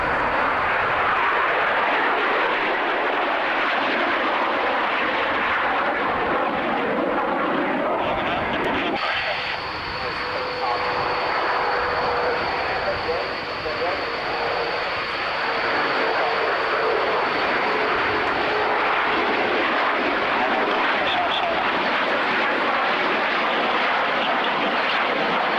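A Firefly propeller aircraft flies over the Coningsby airshow in 1993, its engine roaring loud and steady for a long pass, the pitch shifting slightly as it moves overhead.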